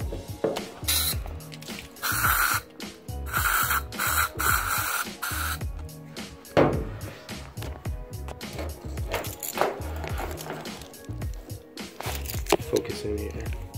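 Home Defense bug spray aimed at bed bugs hisses out in several sharp aerosol bursts, close and fairly loud, separated by clicks and handling noises.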